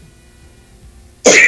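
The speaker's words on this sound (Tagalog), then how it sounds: "Umuubo ka eh." After near-silence, one short, sharp cough bursts out close by at the very end.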